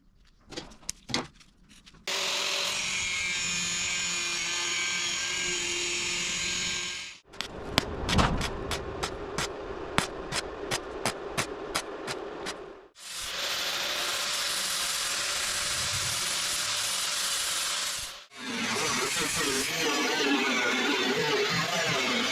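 Steel vent being cut and welded on a rare oval-window Volkswagen Beetle truck: long loud grinding spans, then a burst of rapid repeated welding crackles, more sustained grinding, close up with no talk.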